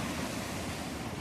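Sea waves wash onto the seashore with a constant broadband roar, steady and fairly loud, mixed with some wind noise on the microphone. There is no speech.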